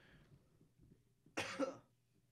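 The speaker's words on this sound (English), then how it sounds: "I love when you cough out the mic and we could still hear it loud and clear" A single short, harsh cough close to the microphone, sudden and fairly loud against a quiet background hum.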